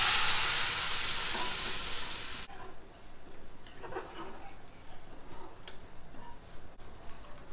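Steam hisses loudly and steadily from a pressure cooker vented during home cooking of dal and taro, a broad continuous rush that cuts off abruptly after a couple of seconds, leaving faint kitchen clatter.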